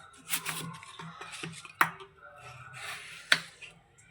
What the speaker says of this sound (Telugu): తర్వాత మనం ఫ్రెంచ్ ఫ్రైస్కి ఎలా కావాలో అలా కట్ చేసుకుందాం